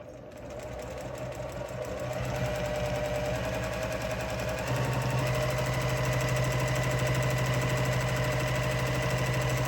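Domestic sewing machine stitching a free-motion stipple on a small quilt with an open-toe foot, a steady fast mechanical whir and rapid needle clatter that holds continuously and picks up speed partway through, close and alone.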